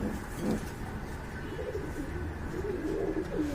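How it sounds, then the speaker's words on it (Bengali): A pair of Baghdadi pigeons coo softly in a few low, rolling phrases, with the calls rising toward the end over a steady background murmur at a pet pigeon sale. "একজোড়া খুব সুন্দর কবুতর দেখতে পাচ্ছেন এখানে ভাই এটা কি কবুতর বাগদাদি"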